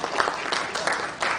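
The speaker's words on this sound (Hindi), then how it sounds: "ऐसे हमारे स्वामी विवेकानंद जी के लिए एक बार जोरदार तालियां सारे लोग बोलेंगे" Enthusiastic audience applause at a talk honoring Swami Vivekananda, a dense rolling patter of many hands with small swells, fairly close and steady for a short burst with no speech over it.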